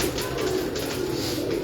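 Sialkoti pigeons coo in a soft, continuous rolling murmur, close by and steady throughout a short stretch.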